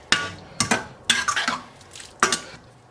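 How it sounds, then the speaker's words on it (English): A utensil stirring pork and bitter melon stir fry in a pan, four or five sharp scraping clatters in an uneven rhythm, close and fairly quiet. "we're going to give it a good stir around"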